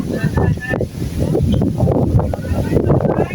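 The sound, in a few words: strong wind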